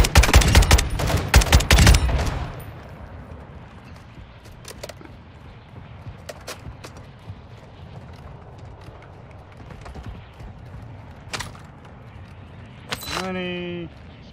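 Rapid bursts of automatic gunfire crackle loud and close while enemies are shot in a video game, then fade into quieter movement and scattered clicks, with a rising mechanical whine near the end.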